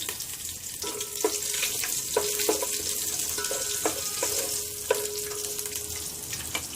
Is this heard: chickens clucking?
no